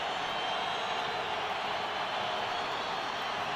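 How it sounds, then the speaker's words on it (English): Denver Broncos home crowd roaring in support of the defense, a dense, steady wash of stadium noise with no break, filling the whole stretch. "This Bronco crowd certainly supporting the defense"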